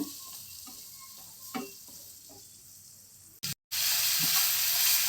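Ground tomato paste sizzles in a pan as palak paneer is cooked, a quiet frying hiss with soft stirring taps, a brief clatter, then a louder, brighter sizzle near the end.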